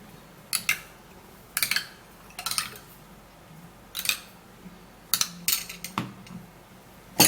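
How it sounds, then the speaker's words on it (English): A spoon stirs a homemade skin mixture in a bowl, giving a few sharp, close clinks and scrapes in irregular bursts with quiet gaps between. "Alright, so you're going to give it a little stir also."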